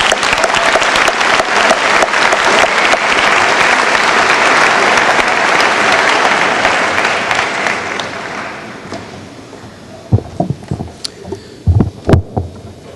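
A high school graduation audience gives a long, loud round of applause for scholarship award recipients in a large hall, fading out toward the end into a few scattered claps and thumps.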